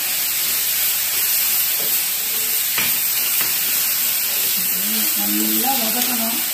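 Grated amla sautéing in oil in a pan, a continuous soft sizzle and hiss with a few stirring scrapes, a voice speaking over it toward the end.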